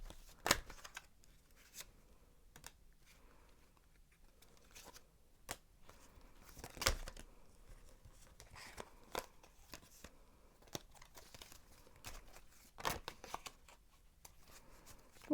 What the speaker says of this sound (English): let's shuffle the cards